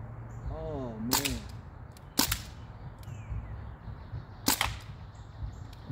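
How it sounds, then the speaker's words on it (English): Three sharp semi-automatic rifle shots from a DPMS Panther Arms short-barreled rifle crack out at an outdoor range, spaced irregularly over several seconds, with a brief bird call and light background noise between them. "we'll do a little semi-auto"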